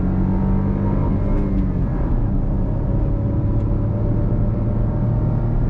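A manual Maruti Dzire VXI accelerating hard from standstill, heard from inside as a loud, continuous engine drone and road rumble with a brief dip around a gear change, no talking.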